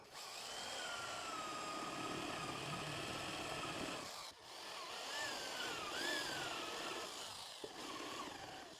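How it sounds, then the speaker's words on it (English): A power drill whirs steadily and continuously, close by, boring into wood, with a rising whine in pitch near the end and a brief pause midway. "I only have to drill in enough that this head of this screw can sit in behind the keyhole"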